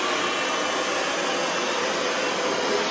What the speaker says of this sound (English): I always blow dry my hair down the hair shaft